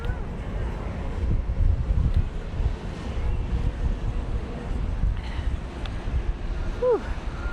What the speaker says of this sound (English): I hope this wind isn't affecting this mic too much.